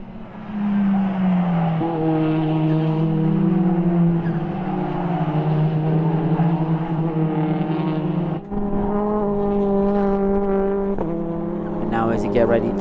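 TCR touring race cars roar around the Most circuit, engines climbing and shifting through gears in sustained, rising tones, with an abrupt gear change midway and a commentator talking over the racing throughout.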